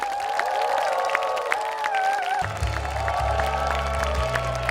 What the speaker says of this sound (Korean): 여러분들 힘찬 박수 부탁드리겠습니다.